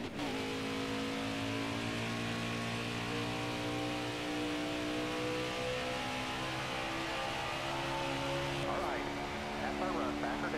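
A race car engine in NASCAR Heat 5 at WWT Raceway drones steadily at high revs, its whine shifting pitch over time. Someone talks over the engine noise.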